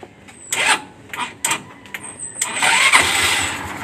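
A Honda CB 125 motorcycle engine being started: several short starter cranking bursts, then the engine catches and settles into a steady running roar, close up.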